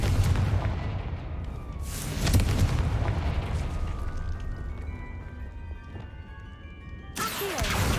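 In Hogwarts Legacy, a Confringo fire spell bursts into a heavy booming explosion, then a rumbling, crackling decay, with a second sharp blast near the end and no talk.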